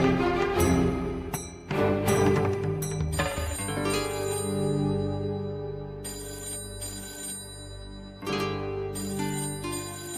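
A telephone rings with a loud, melodic electronic ringtone that repeats in bursts over about ten seconds, playing alone with no talk over it.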